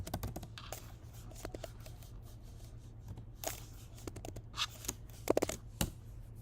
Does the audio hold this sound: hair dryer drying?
no